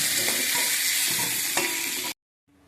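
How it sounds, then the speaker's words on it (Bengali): Cumin seeds and a bay leaf hit hot oil left from frying prawns, giving a loud, steady, close sizzle that cuts off abruptly near the end. "ওই তেলেই আমি একটু জিরে আর একটা তেজপাতা দিয়ে দিলাম।"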